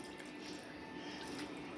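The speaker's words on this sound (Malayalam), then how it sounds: "അപ്പം നമുക്ക് അതിനാവശ്യമായ വെള്ളം നമ്മൾ ചേർത്ത് കൊടുക്കണം" Water pours steadily for a short moment into a Kerala-style fish curry in a clay pot, a soft close trickle with no voices.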